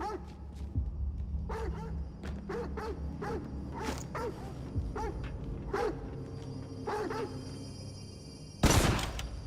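A dog barks repeatedly in the video game Necromunda: Hired Gun, a string of mid-distance yelping woofs over a low game rumble, with a burst of gunfire near the end.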